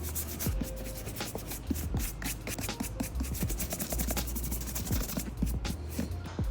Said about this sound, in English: Moving very quickly, just dry brushing as much of the surface dirt as possible.